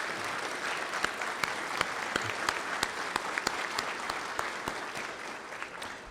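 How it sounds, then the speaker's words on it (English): Steady audience applause fills a room at a Lawrence County Chamber of Commerce awards dinner, many hands clapping at a moderate level with a few sharper claps standing out, continuing without pause throughout. "Would you stand and let's give you a round of applause?"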